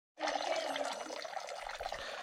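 Taro root is washed under running water in a home kitchen. A steady gush of tap water starts abruptly and splashes continuously, close and fairly loud throughout.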